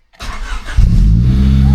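Car engine cranks briefly and catches, then settles into a loud, steady idle right after a gearbox swap on a car being prepared for the Nürburgring.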